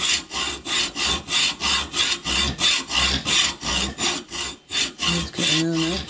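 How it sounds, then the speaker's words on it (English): A hacksaw rough-cuts a wooden knife handle for a Karesuando bushcraft knife kit, rhythmic rasping strokes back and forth at a steady pace, close and loud, with a brief voice near the end. "We'll start the rough cutting out just using the hacksaw."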